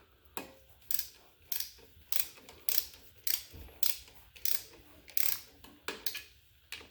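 A torque wrench tightens the clutch cover bolts on a WR250R motorcycle with repeated ratcheting bursts, about a dozen evenly spaced clicking strokes, close and fairly faint.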